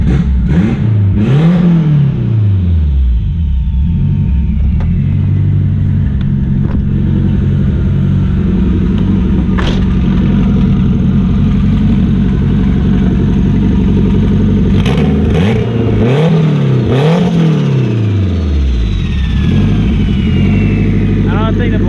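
A 600HP AWD turbo Honda Civic engine revs hard through loud, sweeping rises and falls, with pulls near the start and again around the middle, its rumble close and constant throughout.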